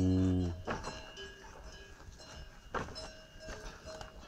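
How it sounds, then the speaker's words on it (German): A cow on an alpine pasture outside a hut lets out a loud, close, low moo that ends within the first half second, followed by quieter rustling and faint farm noise. "Die Kuh macht Mu."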